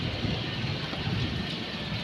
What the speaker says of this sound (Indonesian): Langsung dites oleh hujan.